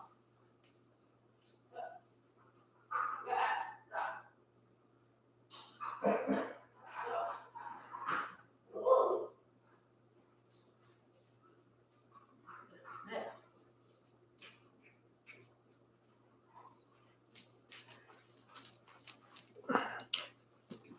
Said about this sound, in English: She has to go bark at whatever it is that she's got to go bark at.